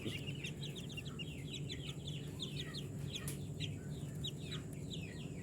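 Baby chicks kept in a covered brooding box without a heat lamp peep continuously in high, rapid chirps, many birds overlapping at a moderate, steady level over a constant low background hum.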